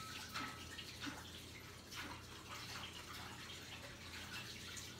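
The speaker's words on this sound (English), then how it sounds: "I keep washing my hands because I can't." Hands are washed under a running kitchen tap, with a steady close rush of water and some splashing throughout and no talking.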